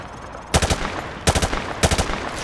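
Three short bursts of automatic gunfire fired into light cover on a Call of Duty Modern Warfare 2 training range, each a rapid cluster of close, sharp shots separated by brief pauses over a steady background hum.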